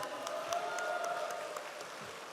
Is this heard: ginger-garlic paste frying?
no